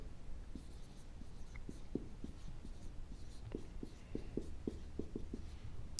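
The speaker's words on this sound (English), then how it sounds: "I'm going to even write that down for you." Pen writing notes by hand at a guitar lesson, faint close scratching strokes in short irregular taps against a quiet background, with no talking.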